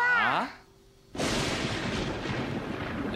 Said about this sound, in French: quand le tonnerre fait boum